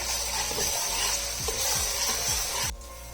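Crushed garlic and ginger sizzling in hot oil with onions while being stirred, a steady close frying hiss with soft scraping strokes of a spoon, cutting out abruptly near the end.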